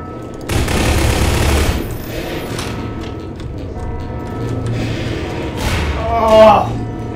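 Gunfire in Half-Life 2 Deathmatch during a LAN party: a loud, dense burst of rapid shots near the start, followed by scattered thuds and softer shots while players talk.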